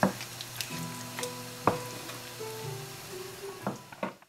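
A garlic goat cheese sauce sizzles softly in a pan while a utensil stirs it, giving scattered scraping clicks and light bubbling pops, close and fairly quiet, with no talking.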